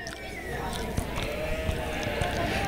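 Ewes bleat at a breeding sheep show ring, several wavering calls rising over a busy indoor crowd murmur with a few sharp knocks, while an announcer talks.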